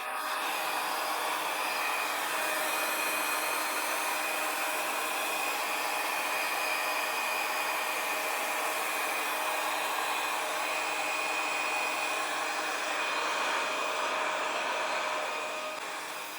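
A hair dryer blows on alcohol inks on a painting with a steady, close, uninterrupted whoosh that lasts the whole time, with no talking.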